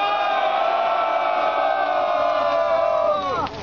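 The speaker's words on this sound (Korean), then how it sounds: "기자회견을 여기에 계신 여러분들의 뜨거운 함성으로 시작하도록 하겠습니다" A crowd gathered for an outdoor press conference in Korea protesting a memorial hall raises a sustained, loud collective shout and cheer that holds steady for about three seconds, then breaks off abruptly.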